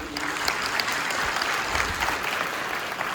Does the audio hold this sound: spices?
no